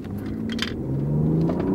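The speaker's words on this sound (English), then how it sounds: "Now realize, this is just a 6-cylinder inline engine, but the Germans know how to make them." A BMW with an inline six-cylinder engine accelerates on a drag strip, its low engine rumble building and rising in pitch over a short, steady pull.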